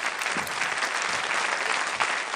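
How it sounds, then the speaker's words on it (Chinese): Audience applause after a children's game on a Chinese TV show, a continuous even patter of many hands at moderate level, unbroken and without speech. "给自己鼓鼓掌好不好"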